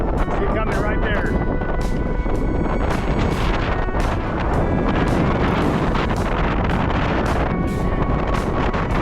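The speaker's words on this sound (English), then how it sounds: "We got at least 50 knot winds. See the gust of wind as it run across the water." Hurricane-force gusts of at least 50 knots tear across water around a moored boat during Hurricane Helene, a loud continuous roaring wind buffeting the microphone with sharp bursts, a voice partly audible beneath.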